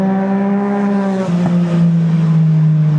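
A motorcycle rides through Snowdonia in Wales, its engine giving a loud, close, steady drone that drops slightly in pitch partway through as it eases off, heard alone without talking.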